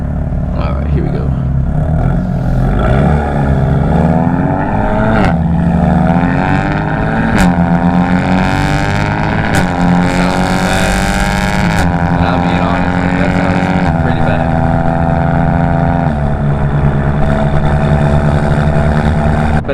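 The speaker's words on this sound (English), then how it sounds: "you guys will hear what that 2K rasp and drone sounds like" BMW with ARM resonated downpipes and an Active Autowerke equal-length mid pipe, heard from inside while driving: a loud, continuous exhaust drone with rising and falling engine pitch through the gears, a raspy edge, no talking.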